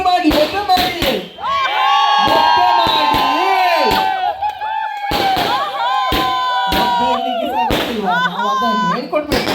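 Crowd of people shouting and cheering during Diwali fireworks celebrations, loud close voices in a sustained chorus with a few sharp bangs and pops cutting through.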